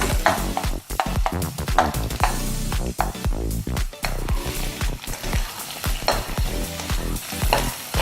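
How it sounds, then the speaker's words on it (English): Egg stir-fried and scrambled in a hot pan, with loud crackling sizzle and frequent rapid clanks and scrapes of a utensil tossing it, close and busy throughout. "I'm gonna pull in the egg. Stir fry it a little bit. Kind of make it scramble."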